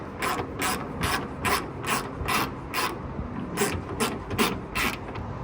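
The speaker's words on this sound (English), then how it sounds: "Just use your socket and twist until it goes snug." A socket ratchet tightens the bolts on a carbon fiber trunk lid of an S550 Mustang, a rapid clicking pawl in a steady run of about a dozen even bursts, close and clear with no speech.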